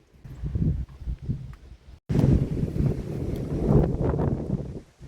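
Steady wind buffets the microphone outdoors during magnet fishing, a low rumbling roar that briefly cuts out and then returns stronger and continuous.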